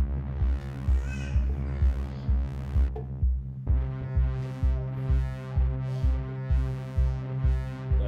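Synthesizer oscillator modulated by the mod wheel, a deep buzzing tone throbbing in a steady rhythmic pulse, briefly cutting out near the middle before resuming with brighter, repeating swells.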